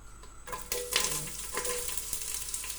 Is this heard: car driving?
no